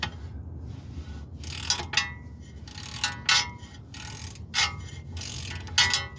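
A hand ratchet tightens rear brake bracket bolts on a VW Corrado, several short bursts of clicking pawl sounds spaced a second or so apart over a low background hum, close by.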